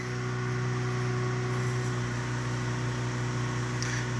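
A Predator 8750 generator drones steadily with a strong low hum and stacked harmonics while it powers a microwave, the load holding even throughout with no voices.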